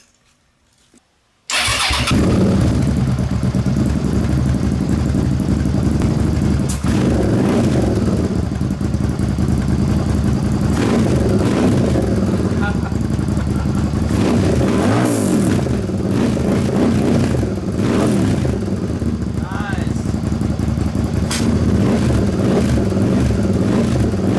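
A mini rock crawler engine, jump-started with a portable booster, fires after a short silence and then runs steadily and loud at close range, with a few brief revs over a constant mid-pitched drone and no talking.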